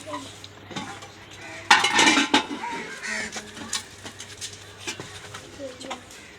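A spoon clinks against a cooking pot while making aate ka dalia in a Pakistani home kitchen, a burst of sharp metallic taps near the two-second mark then scattered lighter clinks, with people talking nearby.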